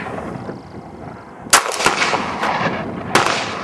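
Gunshots at an outdoor range on a rainy day, two or three sharp reports at a moderate distance over steady background hiss from rain.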